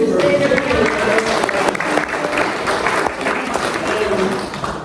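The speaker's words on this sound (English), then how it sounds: "So a big applause for all of you." Steady applause from a crowd, sustained clapping throughout at moderate volume with a faint voice underneath.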